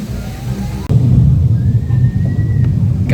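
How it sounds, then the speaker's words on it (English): At a Rainforest Cafe, a simulated thunderstorm effect rolls in as a sudden loud, deep rumble that swells and holds, muffled rain-like noise beneath. "Guys, it's thundering."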